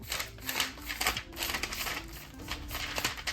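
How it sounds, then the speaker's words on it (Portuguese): Thin 56 gsm notebook paper flipped quickly page after page, giving a continuous rapid riffle of crisp flutters and soft crinkles close by, with no talk. "uma coisa que o papel de 56 gramas permite fazer é folhear assim, ó"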